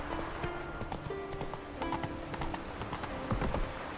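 Roach, a horse in The Witcher 3, trots with steady clip-clopping hooves, close and continuous over game ambience and a sustained musical drone.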